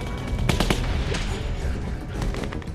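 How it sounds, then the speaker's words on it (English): Machine gun fire in The Walking Dead Season 2 video game: several sharp, rapid bursts of shots in quick succession over a dense rumbling background, moderately loud and close. "who's got a machine gun?"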